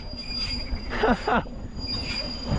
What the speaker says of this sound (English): he's fleeing on the locomotive